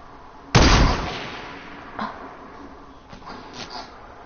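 Sniper rifle fire in a first-person shooter game: one loud, sharp shot with a booming tail, followed by a few fainter distant cracks, no talking.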